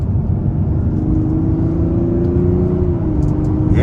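Turbo 6 engine of a 2024 Mazda CX-90 Turbo S pulling in third gear at partial throttle, a steady, loud mid-low drone heard from inside the cabin, holding even with a slight pitch shift near the end.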